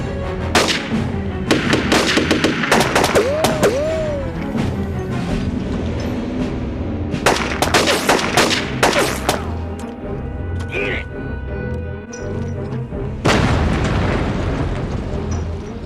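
Firefight with scattered loud gunshots and booms going off in irregular bursts, with voices shouting over the chaotic battle noise.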